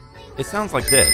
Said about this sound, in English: The 3rd product on this list is the Think Now Classic Bike Bell.